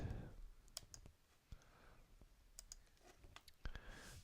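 Quiet key presses on a computer keyboard during Blender modelling work: a few sparse, sharp clicks spread over a few seconds against a faint room background.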